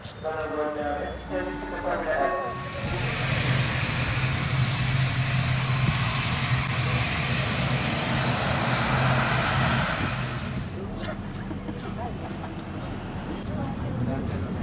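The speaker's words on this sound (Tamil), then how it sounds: "இப்போ வந்து ஃப்ளைட் வந்திருக்குது." An airplane arriving and landing makes a broad, loud engine roar that swells up, holds for several seconds and then fades away, with people talking over it.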